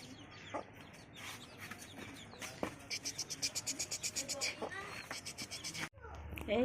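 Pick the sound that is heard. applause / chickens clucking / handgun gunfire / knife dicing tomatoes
chickens clucking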